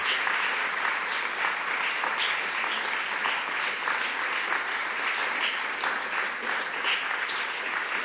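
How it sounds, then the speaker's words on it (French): An audience in a grand Paris hall applauding warmly after a lecture on the architect Victor Baltard, dense sustained clapping filling the room with no voices on top. "Merci beaucoup pour vos chaleureux applaudissements et dans cette magnifique salle."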